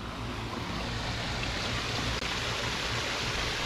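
A roughly four-foot waterfall in a clear backyard ecosystem pond gives a steady, close, full rush of splashing water, loud and unbroken with no voices.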